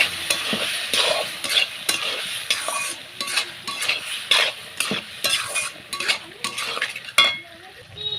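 Close, irregular scraping strokes of a spoon turning bottle gourd and mustard curry in a pan, the liquid cooked down. The stirring runs steadily with no talk.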